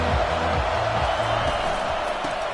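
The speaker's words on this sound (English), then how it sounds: "This crowd bringing the energy and noise early." A football stadium crowd roars in a steady, dense wash of cheering at a college top-25 matchup, loud and continuous from start to finish.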